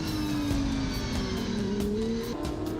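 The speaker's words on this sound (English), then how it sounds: "Wheel-to-wheel racing in the silver category with both Swedish drivers Magnus Öhman" Porsche GT3 Cup race cars run wheel-to-wheel on a circuit, a loud continuous engine roar with a shifting whine that falls and rises between gear changes, and no talk over it.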